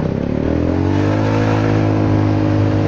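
Honda Forza 300 scooter with a modified, slightly larger exhaust pipe revs close up, a steady loud engine drone that rises slightly in pitch, with no talking.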